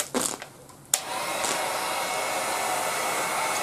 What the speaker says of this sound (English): We are going to use the heat gun, and we are going to lightly heat up all this plastic, making it a permanent part of this noodle.